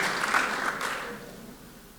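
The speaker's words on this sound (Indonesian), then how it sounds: "Kita beri tepuk tangan dulu." A church congregation at a Sunday service breaks into dense, lively applause that starts loud and gradually fades away over about two seconds.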